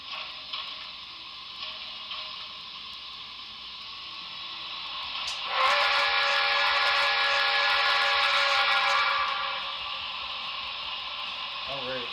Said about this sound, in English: And then we'll do F2 for a whistle.